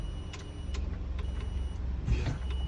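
An adapted Ford Explorer's control computer boots and runs calibration, giving a low steady hum with faint whirring, soft clicks and a brief mechanical thump near the end, fairly quiet with no talk.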